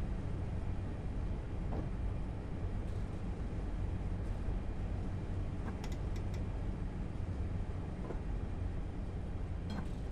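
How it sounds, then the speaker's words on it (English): A simulated train in Train Simulator 2015 rolls slowly into a station, giving a low, steady rumble with a few faint clicks and squeals over about ten quiet seconds. "Slowly coming here into the station."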